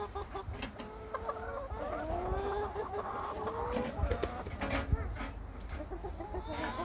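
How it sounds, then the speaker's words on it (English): Several chickens cluck and murmur softly close by while eating kale under a grill, with small scratching and pecking noises mixed in. "So now we're going to show you the chickens eating the kale with the grill over top."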